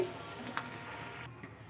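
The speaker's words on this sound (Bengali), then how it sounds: "পেঁয়াজটা ভেজে নেওয়া হচ্ছে" Onion frying in a pan for a fish curry, a soft continuous sizzle with faint stirring scrapes, quiet and close, no talk.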